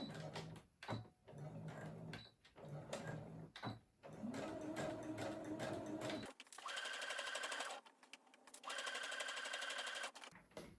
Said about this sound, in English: make sure the seam allowance is sitting towards the lining